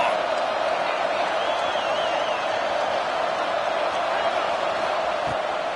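Steady, dense roar of a stadium crowd in a college football video game, loud and continuous throughout with a faint whistle-like tone riding on top, no distinct peaks.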